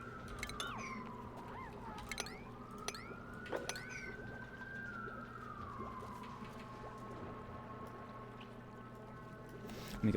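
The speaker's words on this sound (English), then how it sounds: "Loud ambulance." An ambulance siren passes outside, its wailing tone sliding up and down, then drifting lower as it recedes, faint and distant beneath a steady indoor hum.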